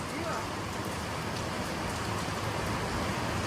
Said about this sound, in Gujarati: પહેલી વાર વરસાદ આવ્યો